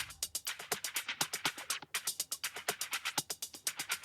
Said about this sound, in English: So that with the hi-hat loop and the other Perc loop sounds like this.